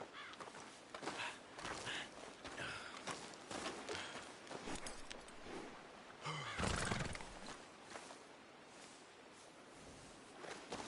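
A horse in the video game Red Dead Redemption 2 whinnies loudly in the middle of the clip, amid the clip-clop of hooves and movement. The overall level is quiet.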